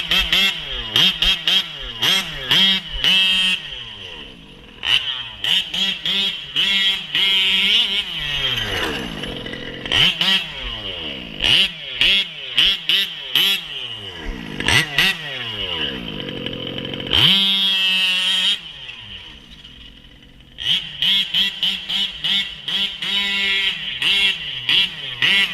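A big bore motorcycle engine revved hard up to about three-quarter throttle: loud, repeated rising and falling revs with short pauses between bursts, close up and raw.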